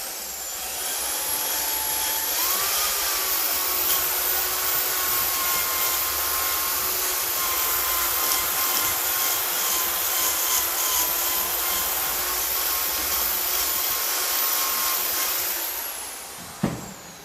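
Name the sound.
old electric drill running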